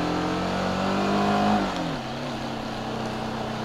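Steady, close engine drone from a TVS Apache RTR 310 motorcycle ridden in second gear through monsoon Maharashtra, swelling briefly then dropping in pitch and settling into an even hum, with no voices.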